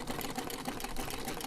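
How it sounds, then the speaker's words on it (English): Brief sewing machine sound effect within a music mix, a rapid, even mechanical chatter of stitching, faint and close, lasting only a moment. "First thing we're hearing is sewing."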